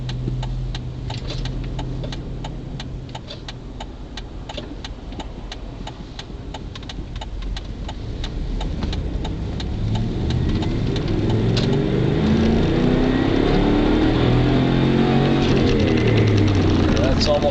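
A 2006 Dodge Dakota pickup with a 6-speed manual revs up under full-throttle acceleration, engine note climbing steadily and growing louder, with a rapid ticking rattle and a speaking voice early on.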